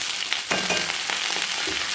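Malabar spinach hits a hot wok of frying vegetables with a loud, close, continuous sizzle and a few sharper crackles and stirring scrapes, no voices.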